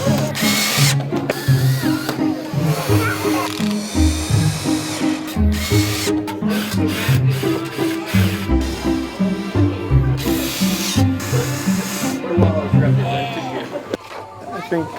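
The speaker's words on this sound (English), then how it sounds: "then you're going to take your drill," A power drill drives screws through dog bed material into a pipe frame in repeated whirring bursts, with people talking nearby.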